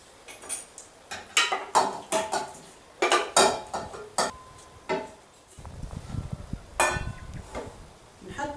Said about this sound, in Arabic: توا باش ناخذ النحاسة باش نفوح هكا التركات نتاع اللحم والهرميش.